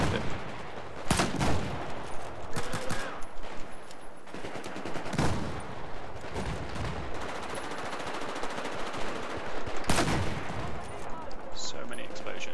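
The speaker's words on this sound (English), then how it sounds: "So many explosions." Battlefield 4 combat: bursts of gunfire and machine-gun rattle overlap with several heavy explosions, loud and dense throughout, with some voices under the din.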